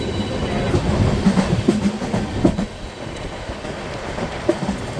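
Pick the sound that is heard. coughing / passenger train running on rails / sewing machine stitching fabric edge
passenger train running on rails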